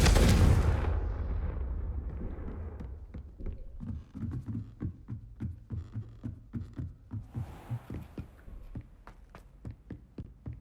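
A big blast opens loudly, then a long series of sharp rhythmic bangs and pops follows, with a second burst near the end, from a Confringo fire-blast spell in Hogwarts Legacy.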